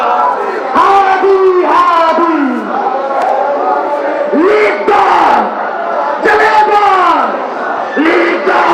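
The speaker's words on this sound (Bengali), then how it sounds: "যারা এখানে এসেছেন তারা আসলে স্লোগান করছেন" Protest crowd at Shahbag chanting slogans in loud, rhythmic call-and-response bursts, many voices shouting together in repeated waves, close and dense throughout.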